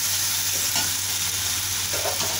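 Pasta goes into a pan of fried spice mix for chicken pasta, making a loud, steady sizzle with stirring scrapes close by and no talking.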